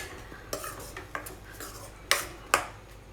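Tomato puree being stirred in a pan for a ginger chicken curry, a spoon scraping and clinking against the metal in irregular strokes, with two sharper knocks near the end, close and fairly quiet.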